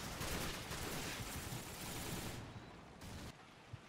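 Gunfire in the video game Call of Duty 4: Modern Warfare, with shotgun blasts blending into a dense, loud roar of shooting that eases slightly toward the end, with no voice over it.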